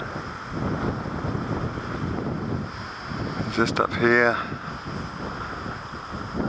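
Steady wind buffets the microphone at a campsite on a sunny morning, a constant rushing roar, with a short spoken phrase and a brief clatter partway through.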